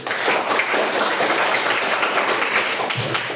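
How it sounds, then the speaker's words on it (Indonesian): A class of seventh-grade students at a junior high school in Pesawaran claps for themselves, a dense, steady patter of many hands that stays close and loud throughout, with no voices over it. "Tepuk tangan buat kalian sendiri."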